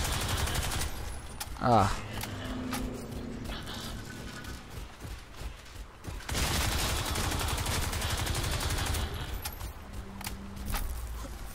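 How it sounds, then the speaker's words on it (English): Bursts of machine pistol gunfire in a Crysis 2 firefight, rapid crackling volleys loud and close with other combat noise, broken by a brief grunt from a voice. "I think I used it all for a machine pistol"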